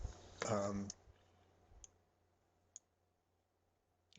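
Mouse clicks on a computer while working through a Blackboard course page, a few sharp, isolated ticks spaced apart after a short burst of speech.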